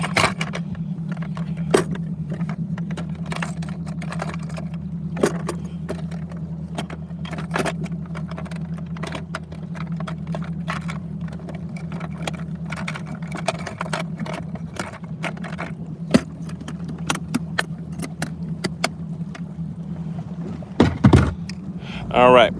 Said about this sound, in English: Get that Mercury cranked up